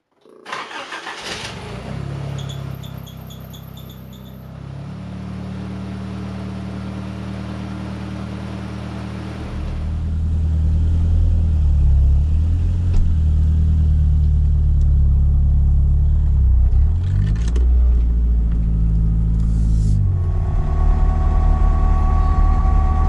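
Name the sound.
Nissan 200SX engine misfiring while driving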